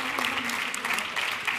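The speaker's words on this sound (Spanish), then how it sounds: "un fuerte aplauso para ella" An audience applauds at the COPE 2021 gala, a brief burst of dense, even clapping from a crowd.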